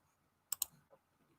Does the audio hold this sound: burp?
no